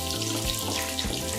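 Beetroot, onion, garlic, coconut, red chillies, curry leaves and spices sauté in oil for a beetroot chutney, with a steady, moderately loud sizzle and a constant hiss throughout.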